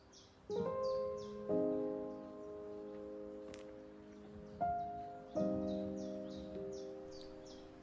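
High, repeated chirping bird calls sound faintly over a quiet woodland background, with sustained melodic tones swelling underneath.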